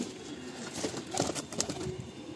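Madrasi pigeons released from a loft, with soft cooing and fluttering wingbeats nearby over a constant background hum.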